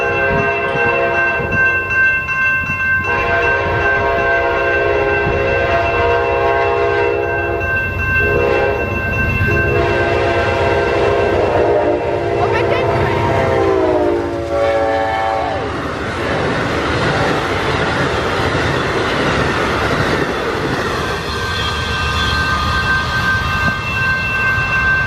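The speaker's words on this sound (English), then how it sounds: "Here is Amtrak 21, the Texas Eagle." An Amtrak Texas Eagle passenger train, number 21, led by a Big Game Train unit, passes southbound in Towanda, its loud horn holding long chords that end in a bend, then the heavy roar of the cars close by.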